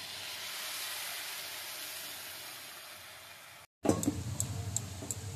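Ground spice paste is added to a hot pan for a cauliflower-stalk chorchori, giving a loud steady hiss, a brief break, then a crackling, spitting sizzle close by.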